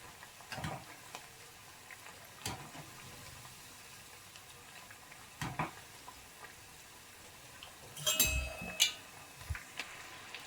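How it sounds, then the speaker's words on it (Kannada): Jackfruit kebabs fry quietly in a pan, their low sizzle broken by a few sharp clinks and scrapes as the pieces are turned over, with no voices. "ನಿಧಾನಕ್ಕೆ ಎಲ್ಲ ತಿರುಗಿಸ್ಕೊಳ್ಳೋಣ ಎರಡು ಸೈಡು ನೀಟಾಗಿ ಫ್ರೈ ಮಾಡ್ಕೊಳ್ಳಿ"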